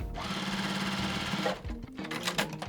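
Close and loud, a sewing machine stitches two fabric pieces together in one steady whirring run of about a second and a half, then stops and gives way to clicks and handling noises.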